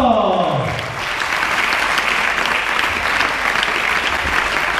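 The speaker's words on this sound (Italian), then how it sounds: "Un applauso!" Audience applause at an event: a voice trails off into dense, sustained clapping from a crowd that keeps going steadily at close range.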